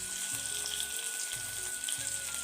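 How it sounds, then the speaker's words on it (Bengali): Coriander powder, cumin, dried and green chillies and bay leaf frying in a pan: a steady, fairly faint bright sizzle with a soft low clatter of stirring every half second or so, no voices. "দিয়ে দিলাম ধনে গুঁড়া জিরে শুকনো লঙ্কা কাঁচা লঙ্কা আর তেজপাতা ভালো করে ভেজে নেবো"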